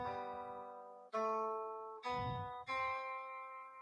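Guitar playing a short passage of sustained notes and chords, four plucked attacks ringing out one after another in a steady, close, clean sound with no talking.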